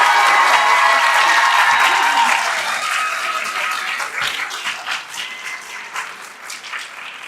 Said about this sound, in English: let's give your support crew, your family, and all your relatives a round of applause for being here